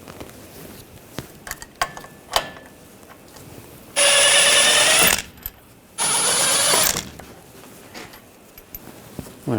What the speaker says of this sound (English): We're going to take these two bolts out, use an 18mm socket.